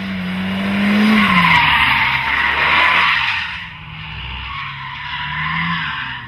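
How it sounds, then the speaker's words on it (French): A Renault Mégane R26.R hot hatch slides through corners on a race track. Its tires give a loud, sustained squeal and scrub over the revving engine, which rises and falls as the car drifts. "La voiture glisse à la demande. C'est vraiment une superbe auto de piste."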